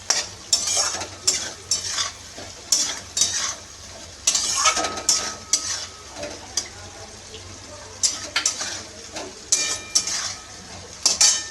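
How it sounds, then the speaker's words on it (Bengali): Potatoes are stirred with a spice mix including Kashmiri chilli powder over a low flame, rhythmic scraping strokes of a spoon against a pan over a soft sizzle, close and clear. "লো ফ্লেমে মশলাটাকে ভালো করে আমি আলুর সাথে মিশিয়ে নিলাম।"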